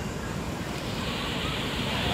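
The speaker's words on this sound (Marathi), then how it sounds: "तुम्ही बघू शकता समुद्र एकदम खवळलेला आहे।" Rough, churning sea at Shrivardhan beach, a constant broad roar of surf with wind buffeting the microphone, loud and unbroken throughout.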